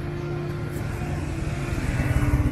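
A motorbike on a road in Vietnam comes by close, its engine hum rising and growing louder and more throbbing toward the end, with no voices.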